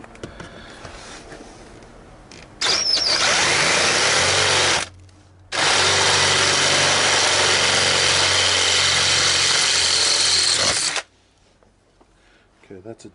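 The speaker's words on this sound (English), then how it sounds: "I might just drill a 10 for now." A power drill whirs loudly and steadily in two bursts separated by a brief pause, close to the listener, drilling a 10 mm hole in a Hyundai iLoad van for a seat armrest.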